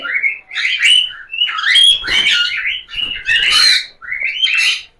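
Lutino cockatiels chirping loudly and close by, a busy run of bright, warbling calls in several bursts with short pauses between them.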